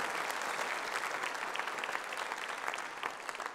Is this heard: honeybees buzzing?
no